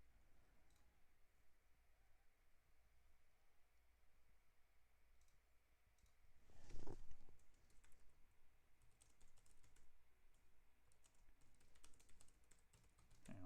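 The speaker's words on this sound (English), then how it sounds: "I'm typing one thing here." Quiet keyboard typing, soft scattered key clicks over a low background hum, with a louder burst of clatter around the middle.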